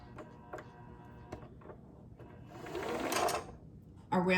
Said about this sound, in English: When it's done winding, it's going to pop open, and that'll tell you it's done.